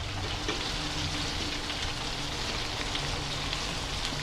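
Purple chicken sizzles steadily in a pan with vegetables seasoned with salt and pepper, a constant broadband frying hiss close by with a low hum underneath, no talk.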